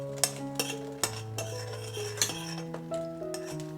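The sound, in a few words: spoonful of lard added to a wok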